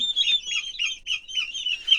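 Continuous high-pitched chirping and squawking calls from several turkeys, overlapping in a steady busy chorus with no talking.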